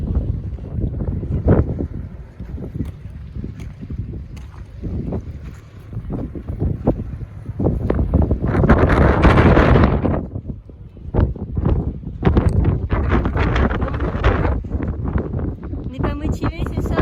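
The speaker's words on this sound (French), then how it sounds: "Il y a du vent" Strong wind buffeting outdoors on Santorini, gusting and roaring loudly around the microphone, with people talking intermittently over it.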